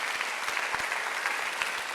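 A church congregation at a Sunday worship service claps in sustained applause, a dense, steady patter of many hands filling the room with no speech.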